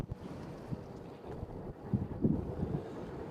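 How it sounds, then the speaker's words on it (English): Gusty wind at an airport buffets the microphone in low rumbling bursts, swelling and easing over a steady roar with no talking. "So there's your 27-mile-an-hour wind gust that they're talking about."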